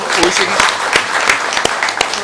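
Audience clapping loudly at a social business design lab session, a dense, steady burst of applause from a room full of people, close and sustained throughout.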